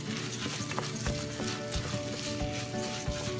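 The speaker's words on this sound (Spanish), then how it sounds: "Entonces solamente lo voy a sofreír un poquito." Rice for plain white rice sizzles and crackles steadily as it is sautéed in a hot pan, a dense, continuous close frying hiss with occasional scraping stirs and no talking.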